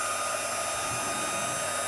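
An embossing heat tool blows hot air at close range while card-making, a steady, loud, breathy whoosh with an electric motor whine lasting the whole short stretch.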